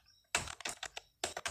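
Quick bursts of keystrokes on a computer keyboard, close and clear, a short cluster of taps, a pause, then a few more presses, with no talking.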